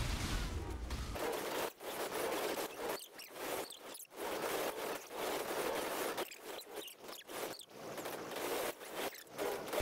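Sped-up Path of Exile combat with a loot explosion, a dense continuous wash of rapid crackling and skittering game effects, loud and busy, broken by a few brief dropouts, with no talking.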